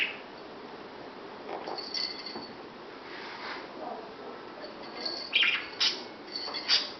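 Pet bird chirps in short, faint bursts at a moderate distance, with a few louder tweets toward the end against a quiet indoor background.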